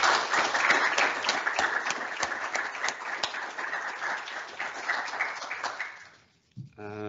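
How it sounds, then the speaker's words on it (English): Seminar audience applause, a sustained round of dense clapping that gradually thins and fades out, followed by a brief quiet moment and the start of a voice at the end. "Let's just give them a massive round of applause here."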